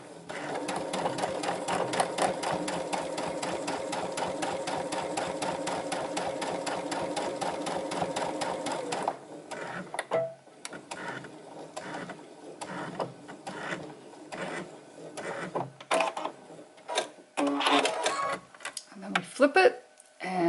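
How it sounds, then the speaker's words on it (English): A sewing machine runs in a steady, loud whir for about nine seconds while stitching a soup bowl cozy with an automatic backstitch, then stops and gives way to scattered short clicks and handling noises. "I have my machine set so that it will automatically do a backstitch"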